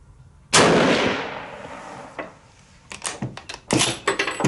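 A single loud rifle shot at a 100-yard range, fired from a K98k, No4 MK II or M44 bolt-action rifle. The sharp blast rings and decays for over a second, followed by several clattering handling clicks.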